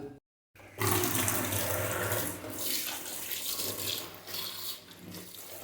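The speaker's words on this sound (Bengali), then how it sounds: "দেখো নেকড়াটা ভিজিয়ে নিচ্ছি" A cloth rag is soaked under running water in a home, a close, steady gush and splash that starts after a brief silence and keeps pouring with small shifts in loudness.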